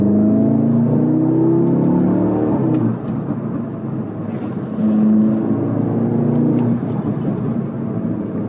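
An Audi S3 8Y, rated 213 kW and 400 Nm, pulls away on a test drive, its engine note rising steadily and close up, easing off briefly midway and then building again, with no talk over it.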